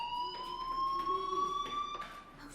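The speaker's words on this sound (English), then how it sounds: "do you hear that fire alarm?" A fire alarm in the video game Life is Strange Remastered sounds a steady, high-pitched electronic tone that holds at a moderate level with faint rising pulses, and no one speaks.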